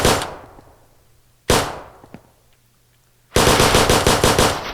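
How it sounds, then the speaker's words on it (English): Simulated gunfire from a custom test weapon in the ATPS video game: two loud single shots, each with a long fading tail, then a rapid, loud full-auto burst to the end. "Now if we fire a few rounds off,"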